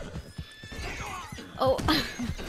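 A wild horse neighs in the video game Red Dead Redemption 2, a short strained whinny rising near the end over low thumping game sounds, with no talking.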